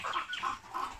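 Layer hens in a poultry house cluck in a steady, overlapping chorus, several birds close by and fairly loud with no talk over them.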